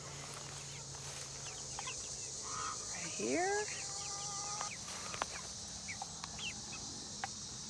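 Chickens in a chicken tractor cluck and chirp softly in the background, with a brief louder squawk; a person says a few words nearby.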